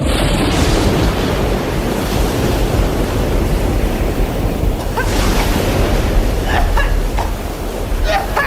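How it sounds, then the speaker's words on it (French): A large ocean wave crashing within a musical children's tale, heard as a loud, sustained roar of surf and wind filling the whole stretch, with faint higher tones near the end. "Vous l'avez vu cette vague? Oh, elle était immense."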